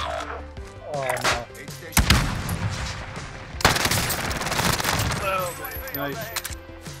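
Rapid bursts of automatic gunfire and explosions in the video game Call of Duty Cold War Warzone, loud and dense over several seconds, with players talking over the shooting.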